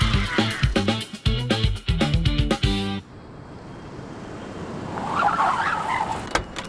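A vehicle engine hums steadily after a burst of loud, choppy sounds, with a brighter whine rising near the end.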